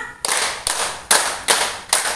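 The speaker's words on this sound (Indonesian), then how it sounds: "tepuk 5" Five loud, evenly spaced group claps ring out in a clapping game at a work meeting, each a crisp burst from many hands together, with no talking over them.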